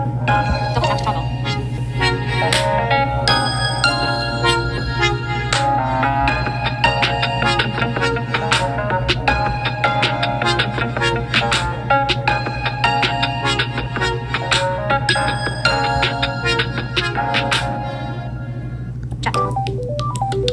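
The Samsung Starburst ringtone plays continuously for about twenty seconds: a bright, busy melodic electronic phrase over a steady low hum, repeating, loud and alone, fading slightly near the end.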